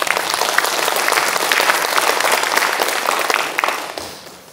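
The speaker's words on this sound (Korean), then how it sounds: "큰 박수로 맞이해 주시기 바랍니다." An audience at a Korean presentation event claps steadily to welcome a guest speaker, a dense close applause lasting several seconds before tapering off at the end.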